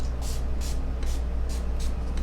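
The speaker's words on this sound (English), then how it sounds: "So I'm going to spray." Urban Decay oil-control setting spray misted onto a face during a foundation routine for oily skin, five or six short soft hissing spritzes in quick succession over a low steady hum.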